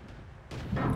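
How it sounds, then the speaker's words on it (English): KV-1 tank cannon in World of Tanks fires in the distance, a short muffled boom followed by a louder, closer blast, heard alone without talk. "That must be the KV-1 again, firing and missing."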